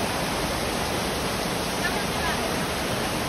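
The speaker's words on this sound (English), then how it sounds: "I hope you can hear me over the rain." Heavy pouring rain on the Amalfi Coast in Positano, a steady dense hiss filling the whole clip without pause, loud and close with no distinct drops standing out.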